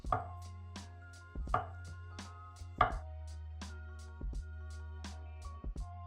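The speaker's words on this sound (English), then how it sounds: "slice up your avocado" Knife cutting through avocado on a board, a series of crisp, irregular taps and clicks spread over several seconds, close and fairly quiet, with no talking.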